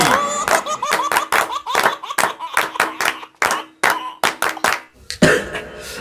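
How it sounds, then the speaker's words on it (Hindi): A crowd claps for a politician at a Republic Day comedy performance, giving uneven bursts of sharp, separate hand claps with short gaps between groups, nearby and fairly loud, with a few voices in between. "लड़का हो जोर से बजाओ नेताजी पर ताली।"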